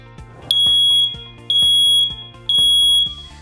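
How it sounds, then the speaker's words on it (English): An Exelgard smoke alarm sounds its test signal: three loud, piercing high-pitched beeps, each held for about half a second, in a steady on-off rhythm with short gaps of silence between them. "Once a month, take a moment to press the test button to make sure the alarm works."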